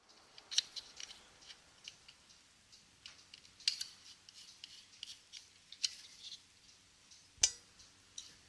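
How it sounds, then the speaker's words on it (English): Faint, sharp snips at irregular intervals as plastic flashing is trimmed from melted holes in a handmade plastic travel case, with quiet handling noises between cuts. "I've trimmed the flashing from the melted holes, more or less"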